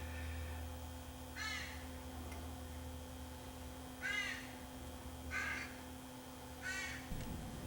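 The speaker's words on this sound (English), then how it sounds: "all the crows are shouting "caw."" Crows caw in a quiet neighborhood, four separate harsh calls spaced a second or two apart, fairly faint over a low steady background hum.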